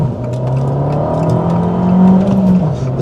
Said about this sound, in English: once that turbo kicks in, it flies